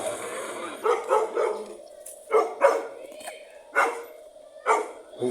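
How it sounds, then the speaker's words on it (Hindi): A dog in a rural village yard with horses barks in several separate bursts of two or three barks each, moderately loud, with a faint voice in the background. "ये जी कुत्ता, इसने भौंक भौंक के हमारा वैसे सर खा लिया।"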